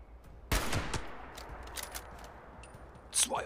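Enemy gunfire in Fallout 76, a loud close burst of rapid shots followed by scattered fainter shots and bangs, with another sharp loud burst near the end.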